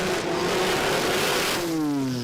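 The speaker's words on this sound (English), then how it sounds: "in the Cleveland exhaust Mazda RX-7" A Mazda RX-7 FD race car with a 13B rotary engine and Cleveland exhaust, at Willowbank Raceway. It screams loudly past at close range, its buzzing tone dropping sharply in pitch as it goes by.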